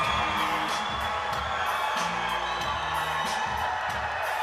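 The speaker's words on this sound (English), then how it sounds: "And at the end of the night, the biggest cheer of it." A large arena crowd roars and cheers continuously at the close of a final bout between Kyrgyz and Chinese competitors, a dense sustained wall of voices with whoops and a commentator talking over it.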